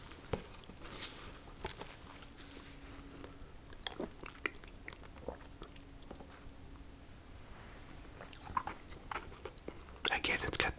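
Crunchy malted milk balls from a Burger King Addams Family meal are chewed close to the microphone in an ASMR mukbang, with soft repeated crunching and biting in an irregular rhythm, and whispered talk in places.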